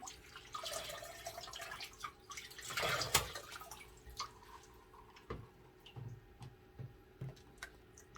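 Water poured into an orchid potted in LECA clay pebbles, giving a run of soft drips, trickles and small clicks up close, with a fuller splash midway and scattered droplets after.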